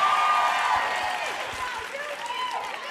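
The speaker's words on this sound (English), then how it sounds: "So you guys give yourselves a round of applause" Applause from an audience at a live book tour stage event, a steady wash of clapping throughout with voices rising over it.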